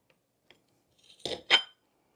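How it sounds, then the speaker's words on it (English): A knife slices through a block of cheese, with a faint tap or two and then two short, close cutting crunches in quick succession, alone without talk. "I'm just going to cut this in half like so"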